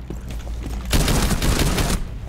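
Gunfire in the video game Rainbow Six Siege: after a low rumble of game ambience, a loud, rapid burst of automatic shots rattles continuously for about a second before fading back to the background.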